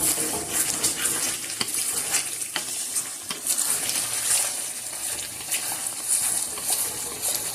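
Chicken wings karahi is stirred in a pan, giving a steady sizzling hiss with scraping and clinking as the spoon moves through the sauce, continuous and close, with no talking.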